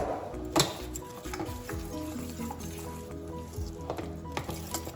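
Dhokla batter is stirred and mixed in a bowl, with scraping and sloshing strokes, a sharp clink of utensil against the vessel near the start, and small taps continuing throughout, close and moderately loud without talk.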